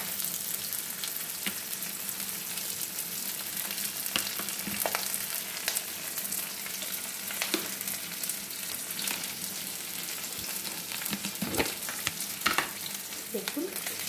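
Marinated chicken poured into a pan of browning onions for chicken rezala, a dense continuous sizzle with occasional scrapes and clinks of a spoon, close and steady with no voices.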